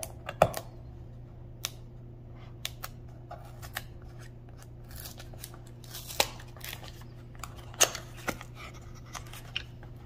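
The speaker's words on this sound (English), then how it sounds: "I'm just going to take the sticker off here." A sticker being peeled off the packaging of a Logitech M510 mouse, heard as scattered sharp crackles and small ticks of paper and plastic over a steady low hum, close and fairly quiet, with no talking.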